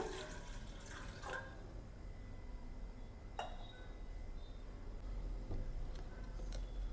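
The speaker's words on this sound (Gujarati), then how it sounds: "એક તપેલીમાં પાણી લઈ લઈશું." Water poured into a cooking pot while making drumstick curry: a faint trickle and a few drips, with light metallic clinks, heard quietly and without speech.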